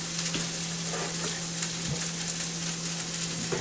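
Garlic and onions fry in a pan with a steady, close sizzle and faint crackle for a Peruvian potato dish, with a constant low hum underneath and no talking.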